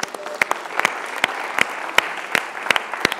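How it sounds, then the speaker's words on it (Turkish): Studio audience applauding on a Turkish television show where contestants pitch ideas, a dense steady wash of clapping with sharp individual claps standing out throughout. "Alkışlarla uğurluyoruz."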